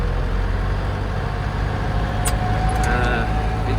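A 4x4 engine labors in low range, fourth gear, with the differential locker engaged while climbing through deep snow on a steep hill, a loud steady drone close up with a few faint squeaks.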